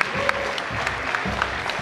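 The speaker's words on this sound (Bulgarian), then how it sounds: "Аплодисменти още веднъж." Audience clapping at a breakdance championship award ceremony, a short burst of steady, moderately loud applause from a crowd.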